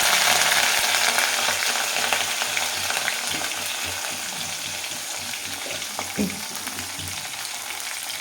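Mustard seeds and curry leaves frying in hot oil for a homemade champaka pickle, a dense, close sizzle that crackles strongly at first and gradually settles, with a few stirring clinks near the end.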